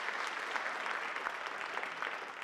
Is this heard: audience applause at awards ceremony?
yes